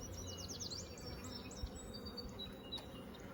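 Honeybees hum inside a huge, crowded hive on the verge of swarming, a dense steady buzz close by with a few faint outdoor chirps above it.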